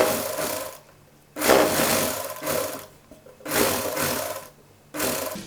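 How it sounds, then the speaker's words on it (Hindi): Domestic sewing machine stitching a seam along the fabric edge of a child's Patiala dress, running in three bursts of steady whirring separated by short pauses, close and clear with no talk. "तो इसकी हम ऐसे सिलाई लगाएंगे"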